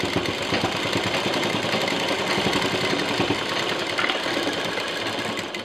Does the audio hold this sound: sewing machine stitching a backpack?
yes